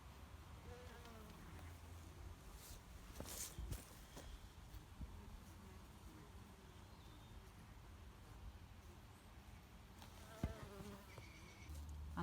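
Honey bees hum steadily around an open hive beneath the crown board, a dense close insect drone with a few brief knocks and clicks from handling.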